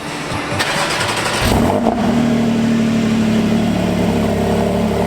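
A Porsche GT4 fitted with a new Milltek exhaust starts up, a short cranking catch and loud rev flare that settles into a steady, deep idle.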